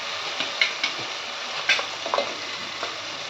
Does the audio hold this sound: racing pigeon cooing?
no